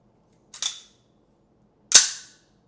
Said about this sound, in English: This is Ravi's gun.